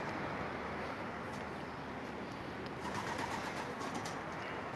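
Homing pigeons coo softly at a bird keeper's loft, a steady low murmur of overlapping calls close by with a few faint wing flutters and no talk.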